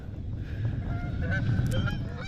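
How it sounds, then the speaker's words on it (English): A large flock of geese honks overhead, many overlapping calls rising and thickening over a steady low rumble, heard from a kayak on the water with a faint voice underneath. "we got 300 geese flying over"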